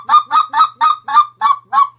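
Seven rapid, evenly spaced speckle belly clucks blown on a Triad Killer goose call, each a sharp, loud, honking yelp, close and alone with no other sounds.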